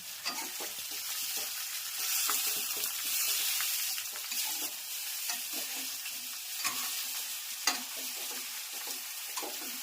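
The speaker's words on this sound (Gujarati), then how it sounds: "તલવાળા મસ્ત મજાનો વઘાર." Sesame seeds sizzling in hot oil as a tempering for patra, a steady crackling fry with scattered pops and stirring clicks, close and continuous with no talking.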